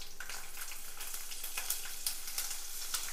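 Whole uncut green chillies, freshly picked, drop into hot oil and sizzle with a quiet, crackling hiss punctuated by sharp scattered pops, with no talking.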